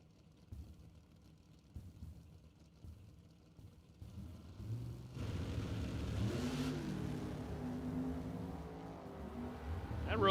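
A Roadster drag race car on a throttle stop during an eighth mile pass, a low engine rumble that swells from faint to a steady, louder drone after a few seconds.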